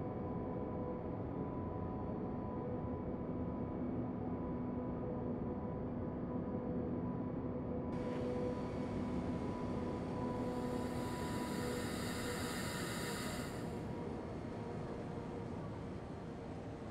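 A freight train rolls along in Train Simulator 2014 on the Veddel southbound route, a continuous low rumble with steady tonal hums, joined partway through by a brighter hissing layer that swells and then fades.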